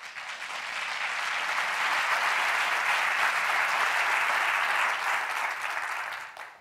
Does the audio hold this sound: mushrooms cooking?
no